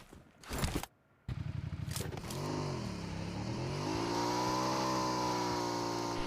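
In the mobile battle royale game PUBG Mobile, a car starts after a few short thuds, then its engine hums and revs with rising, wavering pitch, steady and fairly close, with no talking.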